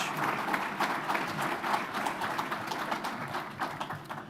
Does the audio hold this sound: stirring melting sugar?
no